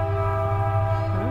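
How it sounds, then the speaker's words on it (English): A train horn sounds steadily on a rural homestead in spring, a sustained multi-tone blast with a low rumble beneath, fairly loud and continuous for the whole moment. "Oh, there's a train."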